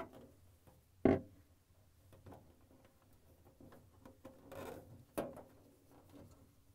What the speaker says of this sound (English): Insert the flat blade screwdriver into the opening in the thermistor cover grill